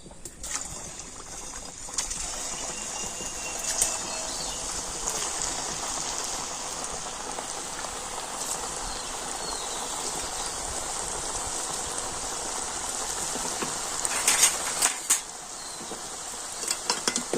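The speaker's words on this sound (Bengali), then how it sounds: "আর এখন আমি মিষ্টিগুলো তেলের মধ্যে দিয়ে দিচ্ছি" Carrot sweets frying in well-heated oil in a pan, giving a steady, dense sizzle and crackle that runs the whole time with no talk, growing slightly busier near the end.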